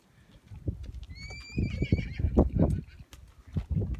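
A ridden horse whinnies clearly at close range while its hooves clip-clop at a walk underneath the call.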